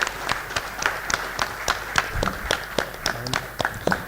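Scattered, sparse clapping from a small audience at a regional workshop on biomass co-firing in thermal power, individual claps spaced irregularly and fairly close, with faint room murmur.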